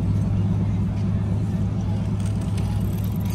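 A Lamborghini 350 GT pulls away on a street, its engine a steady low rumble that stays level and close throughout, with a faint hint of a voice.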